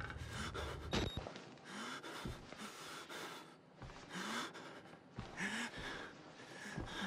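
Heavy breathing in the horror video game Outlast, close ragged panting and gasps in a repeating rhythm of sharp inhales and exhales, with no talk over it.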